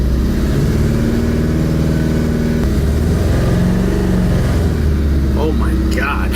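A Honda hatchback engine revs and bogs as the clutch is dumped, a loud rough mid-pitched drone with shifting pitch and a sudden change partway through, with some voice-like sound mixed in near the end.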